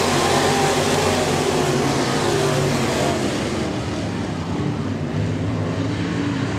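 Sport modified race cars roar past together on the Raceway Park oval, a dense, loud wash of engine noise that swells and fades slightly as the pack goes by.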